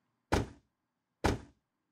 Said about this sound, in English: let's go ahead and close all the doors.